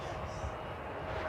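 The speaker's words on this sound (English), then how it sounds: "This is Qantas flight 7 from Sydney. Yes, 787-9." A Qantas Boeing 787-9 airliner on its flight from Sydney at DFW airport, heard as a steady broadband jet roar at a distance, continuous and even.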